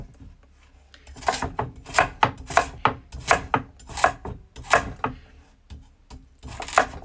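Carrots chopped by hand with a knife on a board set on top of an oven, a steady run of crisp, close cutting strikes with brief pauses.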